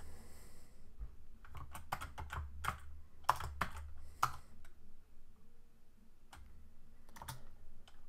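Typing a password on a computer keyboard at a login page, with uneven bursts of sharp key clicks spread across the clip over a low steady hum, no talking.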